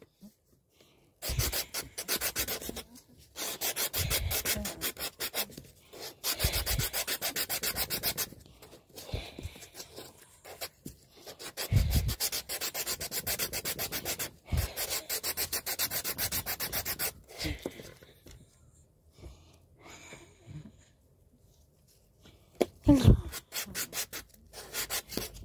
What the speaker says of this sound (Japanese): ヤスリで。